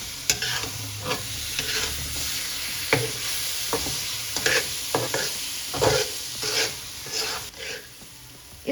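Semolina fruit halwa with banana and apple being stirred in a hot pan over medium-high heat, a steady sizzle broken by repeated scraping strokes of the spoon at an irregular rhythm, close and fairly loud, with no voices.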